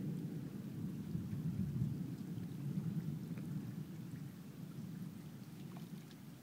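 Distant thunder of a summer storm at night rumbles low and continuous, a deep rolling growl with faint rain hiss above it, no voices.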